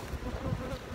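A box of honeybees in an apiary hums in a dense, steady buzz, close and continuous, with no voices over it.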